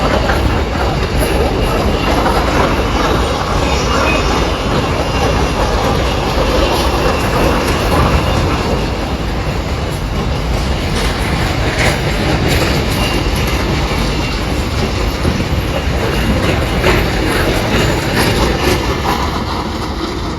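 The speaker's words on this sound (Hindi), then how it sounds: "शोर बहुत ज़्यादा हो रहा है ट्रेन का।" A train rumbles loudly and steadily along the rails for the whole stretch at night near a lonely track, with continuous clatter and wheel noise close by.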